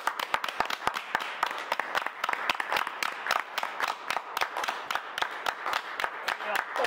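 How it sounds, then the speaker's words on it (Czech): A small group claps in support of rescue workers, nurses and shop staff, with distinct sharp hand claps in a brisk, uneven rhythm close by and a voice talking under them. "A zatleskáme našim záchranářům, sestřičkám, prodavačům."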